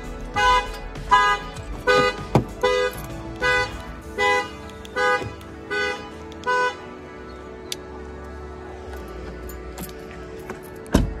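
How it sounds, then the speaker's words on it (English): A truck alarm sounds nearby with a loud horn, blaring in about nine evenly spaced honks before falling silent. "Hit my truck alarm."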